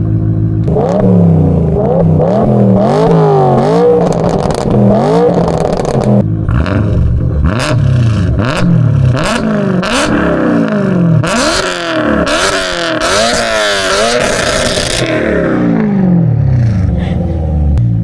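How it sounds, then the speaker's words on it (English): A BMW M3 with an aftermarket exhaust revs repeatedly in rising and falling sweeps, building to high-pitched screaming pulls to redline, close by and sustained throughout. "Alright, we're gonna do some little revs, okay? And then red line."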